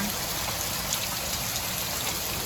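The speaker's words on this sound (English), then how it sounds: "It's raining so hard out here, guys." Heavy rain pouring outside during a storm, a dense, steady hiss of drops that stays loud and even from start to finish with no voices.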